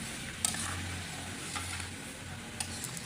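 Tempering spices poured onto mashed bhorta of wild taro leaves and lentils give off a faint, soft sizzle, broken by a few sharp ticks and clinks.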